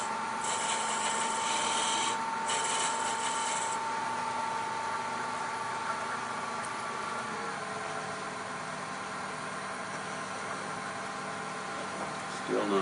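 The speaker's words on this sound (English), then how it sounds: "I'm just going to chamfer this just a little bit." Wood is chamfered on a lathe while turning a mushroom box, a steady close whirring hum with a rasping cut layered in at the start, continuing evenly before the tone drops slightly.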